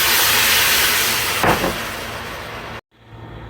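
Soy sauce poured into a hot wok for Filipino pork ribs, a loud steady hiss of sizzling that swells briefly, then cuts off abruptly to near silence.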